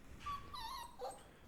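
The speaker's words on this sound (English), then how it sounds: "Yeah, that's my dog." A dog whines in a few short, high, wavering whimpers, fairly faint and close by, in a quiet indoor room with no talking.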